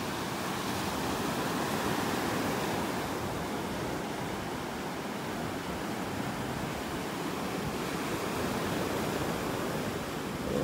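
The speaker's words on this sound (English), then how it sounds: "Right where these waves are starting to break, that's where the sandbar is." Ocean waves breaking over a sandbar along the beach at Wiggins Pass in North Naples, Florida: a continuous broad roar of surf, steady and fairly loud, with slow swells in intensity and no voices.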